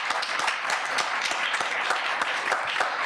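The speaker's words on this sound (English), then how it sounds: "So can we just give them a round of applause?" An audience at a community event applauds, steady dense hand clapping with sharp individual claps standing out, sustained and fairly close, with little talk over it.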